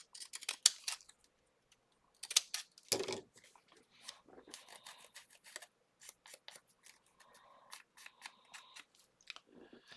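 Scissors snip repeatedly up close, a series of crisp metallic cuts in quick bursts with short pauses between them.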